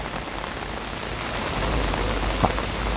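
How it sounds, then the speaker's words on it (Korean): Heavy rain pours steadily outdoors at a subway station exit, a dense, continuous hiss of drops hitting the ground with a single brief louder splash near the end and no voices. "지금 보시다시피 지금 비가 많이 내리고 있습니다."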